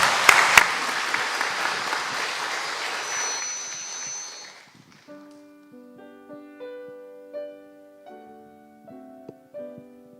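Congregation applause in a Methodist church during a Sunday service, loud and dense for about five seconds before fading as sustained piano or keyboard notes begin to play.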